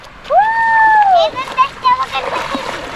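A person splashes into the sea off a tropical island beach, a sharp watery burst following a loud whoop of a voice, with children's chatter and gentle water sloshing after.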